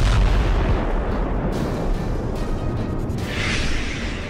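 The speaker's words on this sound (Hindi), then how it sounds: "रूस के काला सागर बेड़े के मुख्यालय पर एक भीषण मिसाइल हमला किया गया।" Missile strike on the Russian Black Sea Fleet naval headquarters in Sevastopol, Crimea, heard as a loud, sustained booming rumble of blasts with rolling low-end roar and a brief hissing burst near the end.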